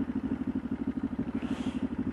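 A motorcycle engine running while the bike is ridden, a steady throbbing beat of fast, even pulses close up, with no voices.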